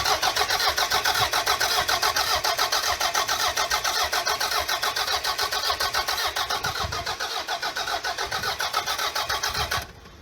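A Toyota MR2 Turbo engine cranks continuously without catching, the starter churning in a fast steady rhythm for about ten seconds, loud and close, before cutting off.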